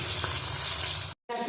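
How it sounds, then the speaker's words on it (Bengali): Saiting fish fry in mustard oil, a dense, loud, steady sizzle close by that cuts off abruptly, then resumes briefly with a bubbling, watery crackle. "এক একটা করে তেলের মধ্যে মাছগুলো ভেজে নিই"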